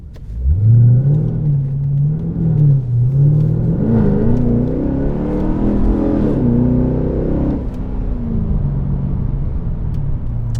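Pontiac G8 GXP V8 sedan pushed hard through corners, its engine droning loud and steady with rising and falling revs as the car sways, a continuous close rumble throughout.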